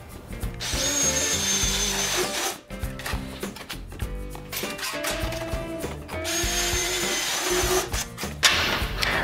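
A power drill bores holes through steel for a welded storage rack, its motor whining steadily with pitch changes as the bit bites and eases, close and loud throughout.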